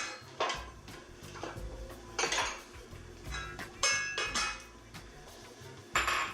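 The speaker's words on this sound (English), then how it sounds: "So I'm going to take our shiitake mushrooms and put that into the soup." Shiitake mushrooms drop into a pot of miso soup amid repeated clattering of pots, dishes and utensils, several distinct knocks and clinks spread across a busy kitchen bed, fairly close.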